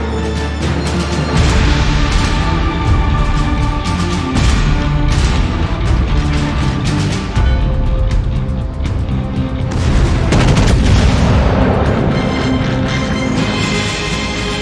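A destroyer blows up in a naval battle game: loud, sustained booming explosions and heavy rumbling crashes, with repeated sharp bursts over roughly fifteen seconds.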